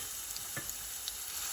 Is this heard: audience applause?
no